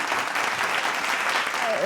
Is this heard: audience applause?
yes